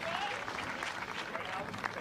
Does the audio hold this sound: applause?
yes